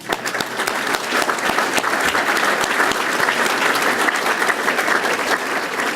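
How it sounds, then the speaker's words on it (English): A large audience claps loudly and steadily for the full stretch, a dense, even roar of hand claps at a community gathering addressed by Chicago's police superintendent. "let's give them a round of applause."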